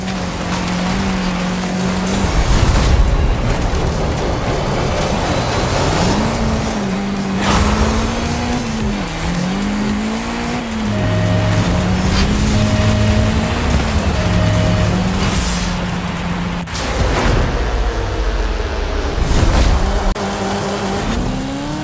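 A Chevrolet Camaro ZL1 driving in a racing video game, its engine droning and shifting pitch steadily over the whole stretch, with brief drops between gears and rising revs, loud and continuous.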